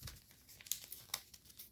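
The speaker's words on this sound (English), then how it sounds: "you can also fold this wing in" Paper crinkles and rustles in a few sharp, quiet bursts as an origami fighter jet's wing is folded in, close and alone with no talking.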